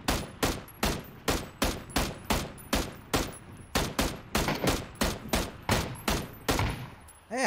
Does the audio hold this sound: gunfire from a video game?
yes